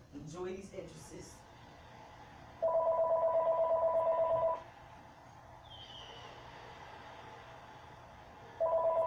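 An electronic telephone rings for an incoming call in two separate bursts of warbling trill, with a quiet gap between them and a faint chirp in the background.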